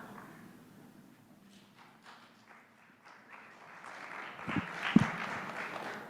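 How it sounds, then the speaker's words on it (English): A church congregation gives scattered applause, starting faint and sparse and building into a fuller round of clapping with a few louder thumps toward the end. "Who knew I got an applause for an announcement?"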